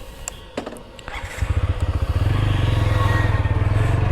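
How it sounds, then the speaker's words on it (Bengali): A new TVS Apache RTR 160 4V motorcycle engine catches after a few clicks and settles into a close, loud, rhythmic pulsing idle. "আমরা এখন যাচ্ছি একটু টেস্ট ড্রাইভ দিতে বা একটা নতুন বাইক"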